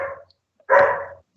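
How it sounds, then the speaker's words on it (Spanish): A pet dog barks twice indoors, a short yip followed by a louder, fuller bark, close and clear against silence. "espero que no escuchen a mi perro,"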